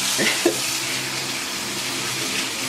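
Cold water running from a tap outdoors in freezing weather, a steady close hiss of flowing water with a couple of brief splashy bursts near the start and no talking.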